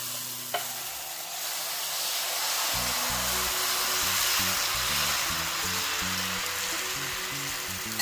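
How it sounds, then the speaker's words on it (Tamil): Millet dosa batter poured onto a hot stone griddle sizzles loudly and steadily, a dense frying hiss that sets in after a brief quiet start and carries on alone. "நம்ம தோசை ஊற்றிக்கலாம்."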